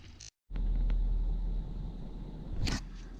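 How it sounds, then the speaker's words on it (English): The air compressor on a 2018 Ford F550 tire service truck cranks after a short pause, then settles into a steady low, rumbling run that stays close and constant, with a brief higher clatter near the end. "start this compressor up and see how she runs."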